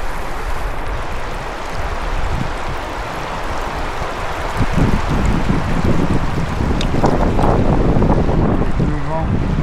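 Strong wind blows outdoors, buffeting the microphone with loud continuous rushing noise that swells a little partway through and stays unbroken throughout.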